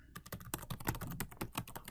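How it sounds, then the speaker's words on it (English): Fast typing on a computer keyboard: a rapid, uneven stream of crisp key clicks, close and fairly quiet, with no voices. "I'm typing too fast."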